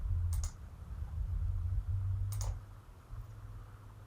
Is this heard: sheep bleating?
no